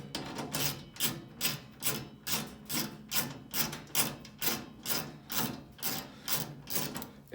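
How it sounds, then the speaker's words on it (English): A ratchet loosening bolts on a Heatilator PS35 pellet stove, with quick rasping clicks arriving in a steady rhythm of about two strokes a second, close and fairly quiet, with no talking. "He's taking off the first bolt."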